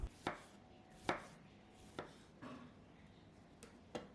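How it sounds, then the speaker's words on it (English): A knife cuts a tomato of about 100 grams into wedges on a cutting board, giving a handful of crisp, irregularly spaced knocks against the board, close and quiet. "Slice 1 tomato, about 100 grams, in 2 wedges."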